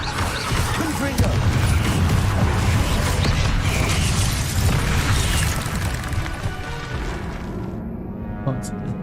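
Confringo explosion spell going off in a Hogwarts wizarding video game: dense, continuous booming blasts and crackling bursts at close range, with a voice over the chaos until it thins out near the end.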